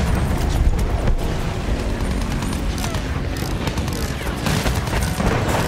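Continuous heavy gunfire and booming blasts from a Battlefield 1 battle rage loud and dense throughout, with no pauses.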